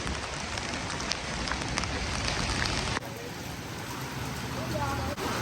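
Rain falling during a tropical storm in Belize City, a dense, steady hiss of drops pattering on surfaces close by, continuous throughout with faint voices in the background.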